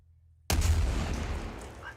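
An artillery gun firing in a video game: a single sudden loud boom out of near silence, followed by a decaying rumble lasting over a second.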